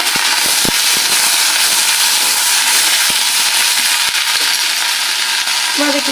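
Curry leaves hit hot oil in a pan, producing a loud, dense crackling sizzle with scattered sharp pops that holds steady throughout, heard up close.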